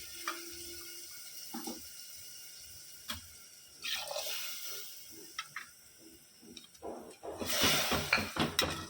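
Water splashes and trickles into a pot of rice in several short bursts, building to a louder, steady pour near the end, with light clinks in between.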